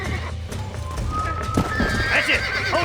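Horse in the western game Red Dead Redemption whinnies loudly over steady clopping hooves, the neigh rising near the end amid busy game ambience.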